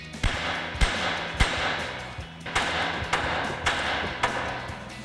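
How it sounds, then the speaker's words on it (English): A hammer strikes a truck's front steering knuckle in sharp, loud blows, about eight of them at uneven intervals, ringing briefly over a steady background hum. "we'll take a hammer and smack the knuckle here to pop that free"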